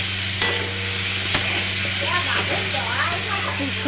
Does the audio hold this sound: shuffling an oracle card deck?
no